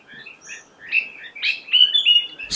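Birds chirp and whistle in a Himalayan forest near Nainital, Uttarakhand, with several overlapping calls and bright trills, fairly close and continuous.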